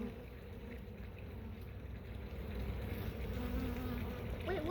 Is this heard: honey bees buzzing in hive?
yes